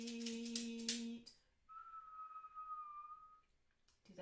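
A person whistles through pursed lips, holding one steady, sustained note for about two seconds in a playful imitation of a bird's tweet, just after a brief burst of voice.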